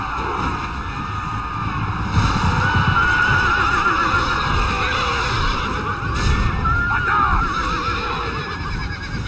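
Horses neigh and whinny repeatedly during a battle in the medieval strategy game Medieval 2 Total War, loud and continuous, with hoof clatter and wind-like battle ambience beneath.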